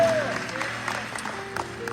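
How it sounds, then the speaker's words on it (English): Applause from a crowd, a brief burst of hand clapping with a murmur of voices underneath. "you can give a hand clap of praise for him and his legacy"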